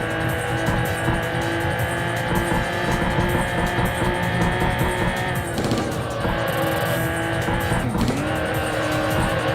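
A race car in Import Tuner Challenge roars steadily around the track, its engine held at a constant loud pitch while tires squeal and skid in two sharp bursts toward the end.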